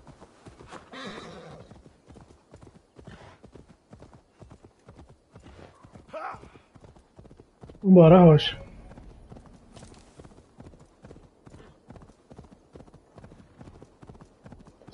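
Horse galloping in Assassin's Creed Valhalla, fast rhythmic hoofbeats steadily drumming throughout, punctuated by a loud whinny midway, with someone speaking briefly over the hooves.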